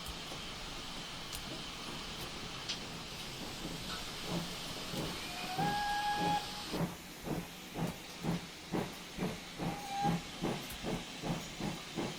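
A GWR Large Prairie steam locomotive whistle in a train simulator sounds in short blasts over steady hissing steam, then rhythmic chuffing exhaust beats take over, fairly faint.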